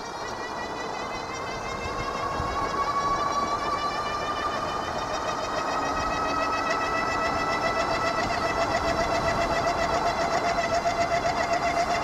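A C3STROM Astro Pro electric motorbike with pedals runs at full throttle, its motor giving a steady high whine that rises gradually in pitch over a constant bed of wind and road rush.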